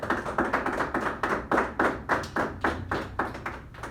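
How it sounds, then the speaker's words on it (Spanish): Rhythmic clapping from a church congregation during a worship service, steady and fairly loud, beating in regular pulses for several seconds. "Démosle un aplauso al Señor."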